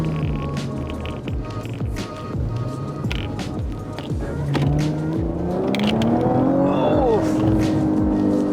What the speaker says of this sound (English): It sounds so fat with the backfire as well.